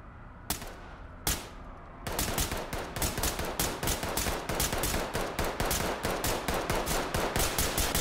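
Gunfire in the tactical shooter Ready or Not, exchanged through a bulletproof panel: two isolated sharp shots, then loud, sustained rapid automatic bursts that crack steadily for several seconds with no talking.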